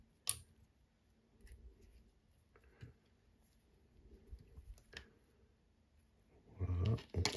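Scissors snip thread at the end of tying a leech streamer fly for fly fishing, a few short crisp clicks spread over a quiet bench, with a louder burst of handling near the end.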